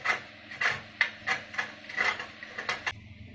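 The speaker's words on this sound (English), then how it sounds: "We are grating the badam." Almonds are grated by hand for a Chettinad sweet, giving close, rhythmic scraping strokes, about ten evenly spaced rasps with a gritty edge, ending with a softer settle.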